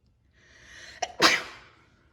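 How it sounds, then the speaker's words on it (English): A single sneeze: a short sharp intake followed by a loud burst, close by and otherwise quiet. "Our videographer had to sneeze."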